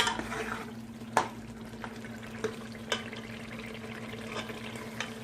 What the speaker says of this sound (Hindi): इसको मैंने अच्छे से भूनना है।